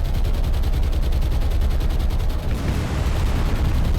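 Bomb hits bursting against ships in a naval war game, a dense, loud rumble of layered explosions and crackling blasts rolling on continuously without pause.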